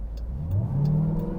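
Dodge Durango engine whining as the vehicle accelerates, a rising mid-pitched drone building steadily over a low engine rumble, close and fairly loud with no talking.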